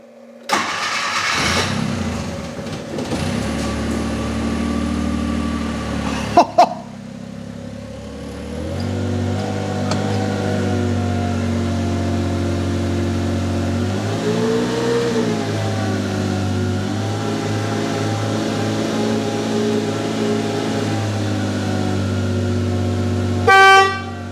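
A long-unused non-running truck engine cranks and fires up when the key is turned, then settles into a loud, steady idle with a horn-like toot and a few revs; no talking.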